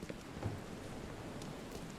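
Steady rain in the video game The Sinking City, a dense continuous hiss of falling water with faint low rumbles, even and moderately quiet throughout with no talking.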